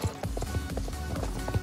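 Horse hooves clip-clop steadily in the Star Stable Online video game, a quick even rhythm of thuds over a continuous low background.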